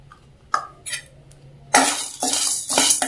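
Toor dal and chana dal roast in a pan for sambar powder while a spoon scrapes and clinks against the metal, giving a few sparse taps followed by brisk, louder stirring strokes.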